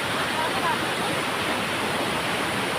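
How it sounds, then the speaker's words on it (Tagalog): Piduan Falls waterfall pouring in a steady, dense roar of rushing water, loud and continuous with no breaks. "Yan ang Piduan Falls."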